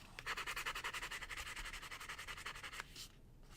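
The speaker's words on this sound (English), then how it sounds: "trusty vintage buffing block, and I'm just going to start buffing around the edges here." Rapid rhythmic rubbing of a vintage buffing block against the edges of artisan metal headpins, about twenty quick strokes in a steady scratchy pulse, close and moderately loud, stopping sharply near the end.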